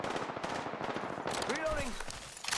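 Rapid bursts of gunfire in an online shooter game, a continuous crackling volley with a brief pitched whoosh midway, heard under faint voice.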